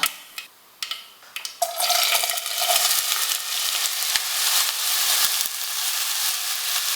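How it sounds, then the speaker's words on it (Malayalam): Chopped banana stem hits hot oil with tempered mustard seeds in a kadai, a few clatters and taps giving way to a loud, continuous frying hiss with occasional stirring knocks. "ഇനി ഇതിലേക്ക് അരിഞ്ഞു വെച്ചിരിക്കുന്ന വാഴപ്പിണ്ടി ചേർക്കാം."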